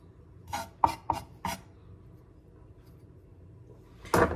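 Food is chopped on a board in a home kitchen: four quick, sharp knife strikes, a pause, then one louder cluster of chops, all quiet and close.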